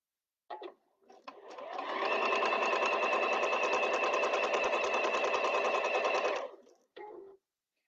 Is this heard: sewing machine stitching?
yes